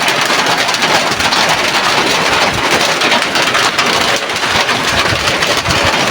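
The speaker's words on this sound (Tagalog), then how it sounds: "Malakas ang ulan." Heavy rain pours down steadily, a dense, loud, unbroken hiss of drops striking surfaces close by, with no voices.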